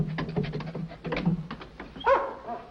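A pedigree show dog barks and yips in short bursts, then lets out a higher whimpering whine, close and fairly loud.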